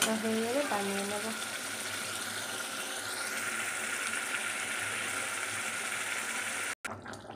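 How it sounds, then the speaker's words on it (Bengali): Water poured into a pan of sizzling fish curry, a steady close hiss and splash of liquid in hot oil that continues evenly before a sharp clatter near the end. "এবারে এই জল দিয়ে দেবো অল্প করে, দিয়ে মাছগুলো দিয়ে দেবো"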